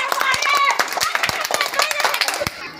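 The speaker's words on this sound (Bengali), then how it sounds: "তাদের জন্য করতালি।" Children and adults clap for the winners of a rope game at a government primary school, a dense patter of hand claps with voices and chatter mixed in throughout.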